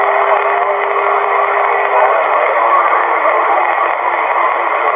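Steady CB radio static from long-distance reception, with a hissing, crackly band of noise, a faint tone fading in and out, continuous and fairly loud with no clear speech.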